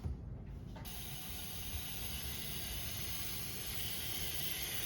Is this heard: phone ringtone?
no